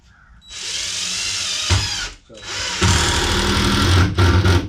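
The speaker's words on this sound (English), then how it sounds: "let's get this next one screwed down. This one I'm probably only going to do 4 screws." Power drill driving screws into wood while building a DIY car ramp, two loud sustained whirring bursts separated by a short pause, close up.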